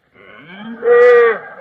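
A voice imitates a cow with a drawn-out moo that starts low and swells into a loud, sustained bellow before trailing off, alone and close.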